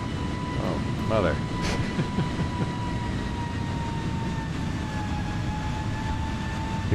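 An Airbus A320 (A32nx) in Microsoft Flight Simulator 2020 gives a continuous low jet-engine rumble with steady whining tones that drift slowly in pitch, and a person speaks briefly over it near the start.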